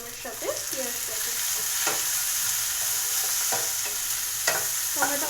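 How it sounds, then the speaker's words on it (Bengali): Tomatoes and onion fry in a pan for an egg bhurji, a steady close sizzle broken by occasional spoon scrapes and knocks as the mixture is stirred. "তো টমেটোগুলো দিয়ে এটাকে আমি একটু ভেজে নেবো টমেটোর সাথে পেঁয়াজটাকে।"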